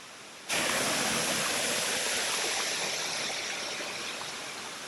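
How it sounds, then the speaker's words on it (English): A Kansas waterfall runs over a large flat rock and spills off the edge into a natural pool below. It makes a loud, steady, close rushing hiss that starts abruptly, then fades slightly as it continues alone. "It flows down this large, flat rock and then pours off the edge into a natural swimming pool below."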